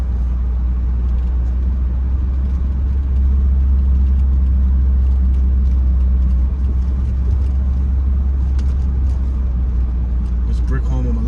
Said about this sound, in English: We'll make a U-turn, then we'll drive by that cop, and then we'll just continue traveling.